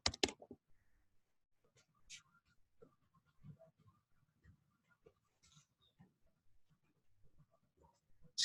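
Light, scattered clicks of someone typing on a computer keyboard come at an irregular pace, faint and close, with soft speech murmured between the keystrokes.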